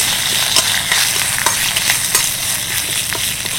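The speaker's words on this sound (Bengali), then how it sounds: "কারি পাতাটা হালকা ভাজা হয়ে গেছে।" Curry leaves fry in hot oil in a wok with a steady, loud sizzle and light stirring scrapes throughout, close up and without any voice over it.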